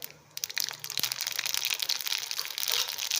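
Mustard seeds splutter and pop in hot coconut oil in a kadai, a dense, crackling sizzle of rapid small pops, close and steady throughout.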